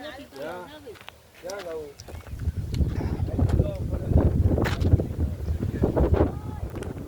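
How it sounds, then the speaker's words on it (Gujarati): Gusty wind near Dwarka, Gujarat buffets the microphone in low rumbling bursts, growing stronger after a brief stretch of talking at the start. "પવન એવો આવે ને આવે જો વાત પૂછો."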